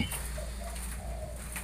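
A trapped wild bird in a house-shaped cage trap gives repeated cooing calls, a few soft low notes close by over a steady low background rumble.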